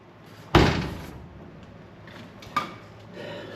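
The door of a 1969 VW Bus shuts with one solid metallic slam, followed about two seconds later by a softer second knock and faint handling noises in a quiet workshop.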